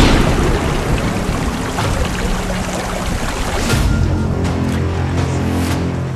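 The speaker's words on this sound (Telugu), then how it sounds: "వర్షం కారణంగా రాళ్ల నుంచి నీరు వచ్చి చేరుతోంది." Rainwater seeping from the rocks of a deep, winding cave and running along a narrow passage, heard as a steady, close rush of water with no voices.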